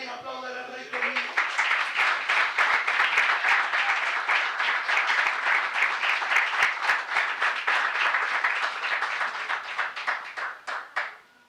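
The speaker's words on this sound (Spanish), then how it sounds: "Alguien aplaude al Rey conmigo." A church congregation applauds together for a long stretch, dense steady clapping with sharp individual claps poking through; a voice speaks briefly at the very start before the clapping takes over and then tails off.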